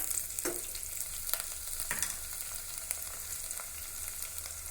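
Beans and green chillies fry in a pan with a soft, continuous sizzle, broken by a few sharp scraping stirs near the start and middle, fairly quiet and with no voices.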